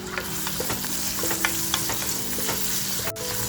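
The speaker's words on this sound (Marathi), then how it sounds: "मस्त आपल्याला कांदा फ्राय करून घ्यायचे" Chopped onion frying with salt in a pan, a steady close sizzle with scattered crackles and the occasional scrape of stirring, no one talking.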